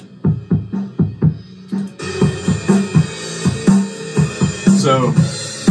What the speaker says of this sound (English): that's the live drums.